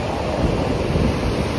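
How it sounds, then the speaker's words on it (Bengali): Sea waves at a quiet private beach in front of a hotel in Mandarmoni, heard as a continuous loud wash of surf with heavy wind rumble on the microphone. "হোটেলের সামনে এই হচ্ছে সমুদ্র।"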